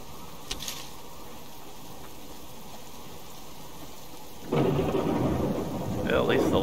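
Thunderstorm with rain in the survival game Subsistence: a steady low rumble of rain gives way to a loud, close crash of thunder that lingers as a heavy roll, with rain hissing throughout.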